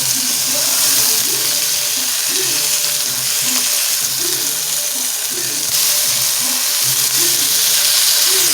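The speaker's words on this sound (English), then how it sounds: "While the meat's still cooking real good" Burger meat frying in a pan alongside sautéing onions, a loud, steady, close sizzle with a voice talking over it throughout.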